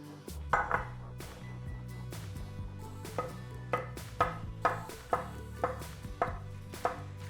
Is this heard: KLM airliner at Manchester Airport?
no